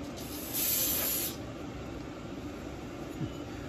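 Brake cleaner sprays in a single hissing burst of just under a second onto a Nissan NV transmission yoke, then stops. A low background rumble continues after it, and no one speaks.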